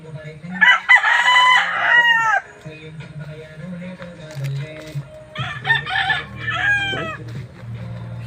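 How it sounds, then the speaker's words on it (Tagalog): Roosters crow loudly and nearby in two long, wavering calls, with chickens clucking between them on a farm, the crows separated by a short lull of lower clucking and background noise. "Ito yung mga manok dito."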